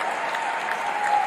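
Crowd applauding at a professional squash match, a dense continuous wash of clapping filling the arena, loud and steady throughout the brief moment.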